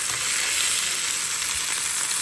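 Steady, loud sizzling of chicken frying in hot oil, an even crackling hiss throughout with no talking.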